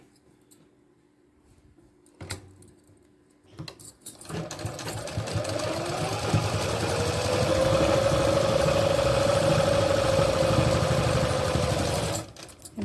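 A domestic sewing machine runs a continuous seam on pant fabric, starting after a few handling knocks and holding a steady mechanical whir for about eight seconds before stopping.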